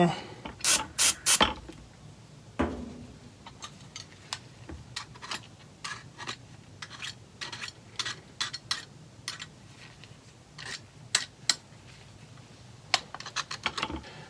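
A Great Stuff Pro spray foam gun tip is scrubbed clean with Great Stuff Pro cleaner, giving repeated short rasping rubs and scratchy strokes in irregular bursts, close and crisp over a quiet background.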